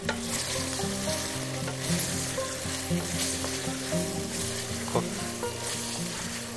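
Food sizzles and crackles steadily in a hot pan while cooking zamarod pulao with cumin, with occasional stirring clatter and pops over a constant frying hiss.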